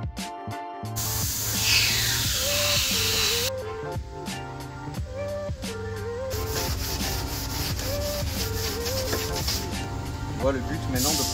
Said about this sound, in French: le but maintenant de poncer l'aile en place